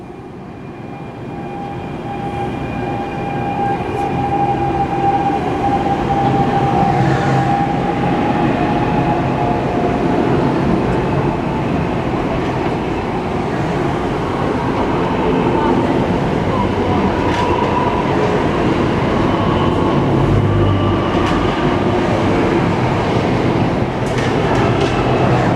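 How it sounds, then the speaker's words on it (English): NJ Transit commuter train #7836 pulling out of Hamilton station, a steady loud rumble and rail roar that builds and holds throughout, with faint squeals and clatter, no talking. "Too late, train's leaving, train's leaving."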